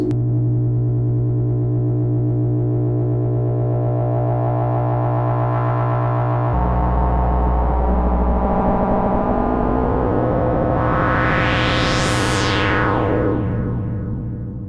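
A Dreadbox synthesizer drone holds steady tones, then shifts into a complex modulated sound as an LFO modulates the second oscillator, with a pitch sweep climbing and falling, loud and continuous.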